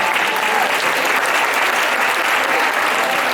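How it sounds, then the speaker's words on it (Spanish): Steady, dense applause from an audience at an education talk, loud and continuous throughout with no pauses. "Muy bien, un aplauso."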